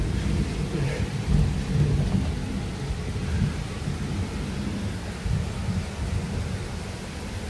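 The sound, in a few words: thunderstorm with rain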